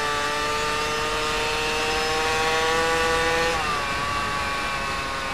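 Motorcycle engine held at high revs, around 9000 RPM in sixth gear, a loud continuous whine with a sharp pitch drop near the end, no talk over it.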